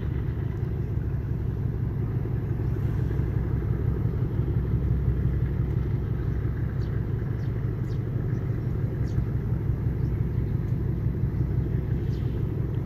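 A ship's engine near the Manila Bay reclamation site in Pasay gives a deep, steady, powerful rumble that stays loud and unbroken throughout, with no talking over it.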